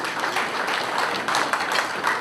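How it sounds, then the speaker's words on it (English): An audience at an evening capital market event gives itself a round of applause, a thick wash of many hands clapping together, fairly loud and continuous for a couple of seconds. "can we please give ourselves a round of applause for being here tonight?"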